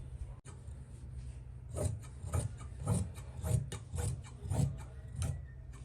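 Scissors snip through shirt fabric in a steady series of about seven or eight crisp rasping cuts, evenly spaced and close, over a low background hum.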